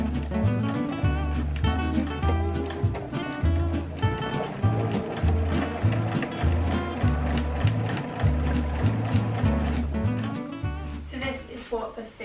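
A sewing machine stitches pink flare trousers, running close and steady with a loud, even rhythmic chatter that keeps going for the whole stretch.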